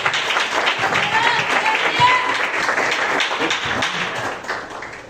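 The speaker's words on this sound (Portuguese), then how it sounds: "Aplaude ao Senhor nessa noite." A church congregation applauds during a worship service, steady dense clapping that fills the room and fades slightly toward the end, with voices mixed in.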